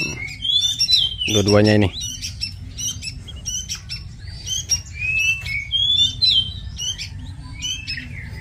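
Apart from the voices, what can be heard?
pink-necked green pigeon (burung punai) calls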